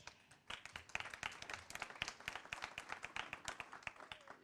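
A conference audience applauds a speaker being welcomed on stage at a plenary session on innovation, with dense, steady clapping from a moderately distant crowd that starts after a brief pause and continues throughout.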